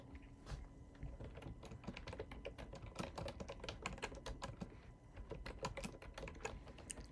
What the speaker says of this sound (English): Let me type that out.